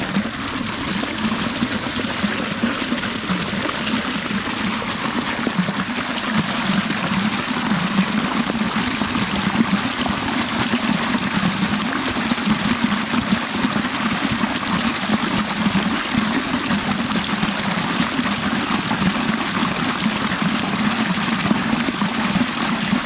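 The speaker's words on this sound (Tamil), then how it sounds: "தண்ணியும் பிடிச்சாச்சு சில்லும் தண்ணி பிடிச்சாச்சு" Flowing water runs steadily while being collected on a walking pilgrimage route to Tirupati, a constant loud rushing and trickling wash with no pauses.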